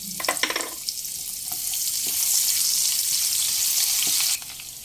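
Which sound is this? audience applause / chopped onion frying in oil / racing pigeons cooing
chopped onion frying in oil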